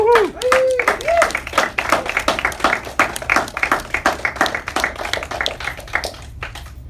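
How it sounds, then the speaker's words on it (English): Newly sworn-in United States military recruits clap at a swearing-in ceremony, a brisk run of individual claps from a small group, close and fairly loud. A voice speaks briefly at the start. "Give yourselves a round of applause"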